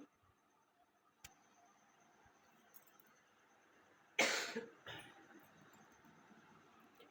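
A single loud cough from someone with a cold, a sharp burst with a short trailing second hack, standing out against a quiet room with faint background noise.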